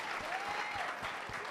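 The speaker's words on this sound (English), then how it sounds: "Can we start by giving Queen a round of applause?" A round of applause from an audience at a business hackathon, steady dense clapping held at an even level throughout, with faint voices mixed in.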